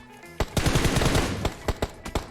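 Rapid bursts of automatic gunfire from a PUBG Mobile match, a loud sustained volley followed by several sharp separate shots, close and with no talk over it.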